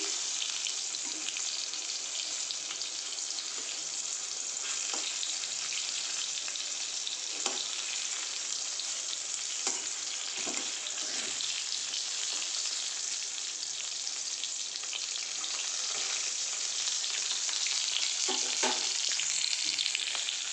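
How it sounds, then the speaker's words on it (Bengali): Pieces of pointed gourd (potol) fry in hot oil with a steady, hissing sizzle that lasts throughout, broken by occasional light clinks and stirring scrapes. "এই যে পটলগুলো ভেজে নিচ্ছি"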